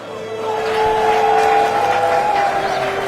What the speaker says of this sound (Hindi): दर्शकों की तालियां रुक ही नहीं रही थी।